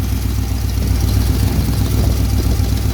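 A 1968 Oldsmobile 455 V8 idles loud and close, a steady deep rumble with an even throbbing pulse and a faint exhaust-leak hiss, running alone without any talk.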